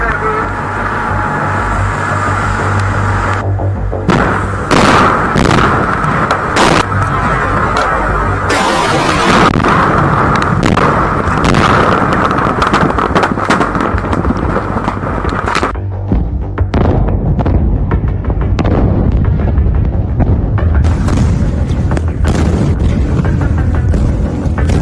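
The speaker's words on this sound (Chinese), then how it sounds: "爆炸很大聲，至少3次，很大聲。" Loud booms from a night-time factory fire in Tainan, Taiwan, where aluminium, waste oil drums and magnesium exploded, come as heavy blasts and rumbling roars over a dense, continuous noise bed, close and intense.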